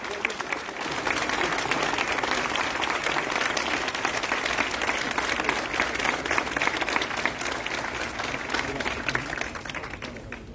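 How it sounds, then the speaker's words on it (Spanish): Sustained applause from an audience at the inauguration of a pediatric intensive care unit at a hospital, dense steady clapping for about ten seconds after a brief quieter start. "Los aplausos para el doctor Rudy."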